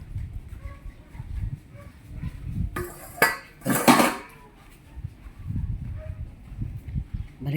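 A dog's plate and other dishes being handled outdoors, with a few scattered clinks and a couple of louder clattering knocks near the middle, faint background noise around them.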